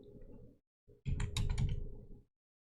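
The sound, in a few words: typing on a computer keyboard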